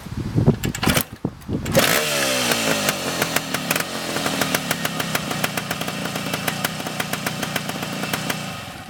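A 1972 Yamaha RT2 360 two-stroke motorcycle, warm, kicks over after a couple of sharp thumps and catches, then settles into a loud, close, rapidly popping idle with regular firing pulses.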